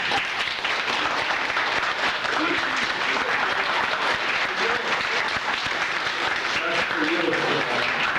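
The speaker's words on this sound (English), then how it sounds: "let's give Kimetta a round of applause." An audience at a symposium applauds, a dense, sustained wash of clapping from many hands that holds at an even level from start to finish.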